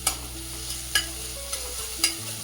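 Onion with ginger-garlic paste being sautéed in a pan: a soft, continuous sizzle with a few sharp spatula taps against the pan, close and alone.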